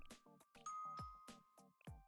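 A chiming ding-dong in a gacha video game, a few bright bell-like tones with sustained ringing over game sounds, with no talk.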